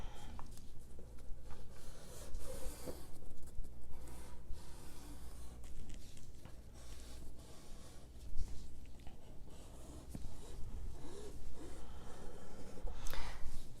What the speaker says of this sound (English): So I'll weight this down, and I'm going to trace this piece.